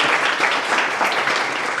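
An audience bursts into dense, steady applause at a French music show for an album release, loud and sustained, with many hands clapping together throughout.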